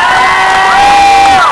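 A large American crowd at a political rally cheers and shouts loudly and continuously, with whoops rising above the steady roar throughout.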